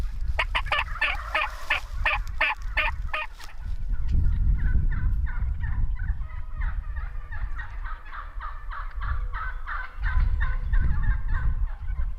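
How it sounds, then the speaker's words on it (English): Wild turkey gobblers gobble outdoors in spring, a loud nearby burst of rapid rattling gobbles followed by another fainter, more distant answering gobble, over low wind rumble. "Eventually, there was a group of 2 gobblers, and they were about to leave."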